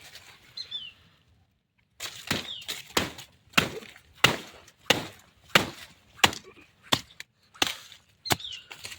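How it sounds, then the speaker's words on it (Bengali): A blade chops into banana tree trunks outdoors in a quick run of about a dozen sharp, close thuds, some in pairs, while birds chirp faintly in the background. "চলো দুটো কলা গাছ কেটে নিই।"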